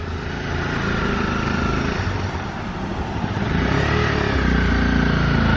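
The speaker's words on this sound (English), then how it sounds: "just taking the bike around" A motorcycle being ridden around nearby, its engine giving a steady, loud, continuous drone that holds level for several seconds, with no talking.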